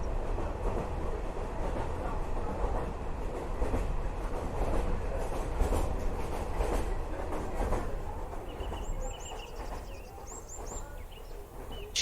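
A train passes along a railway line in the Allier countryside with a continuous rolling rumble and clattering wheels, fairly faint overall, while birds chirp in the background toward the end.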